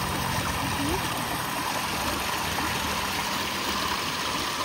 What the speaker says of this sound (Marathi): हे बघ इथं पाणी किती भारी.